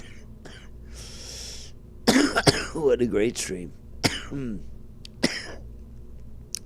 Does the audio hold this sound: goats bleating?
no